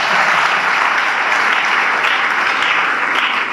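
A crowd at a school and university alumni thanksgiving gathering breaks into steady, dense applause, loud and close, filling the whole moment without pause.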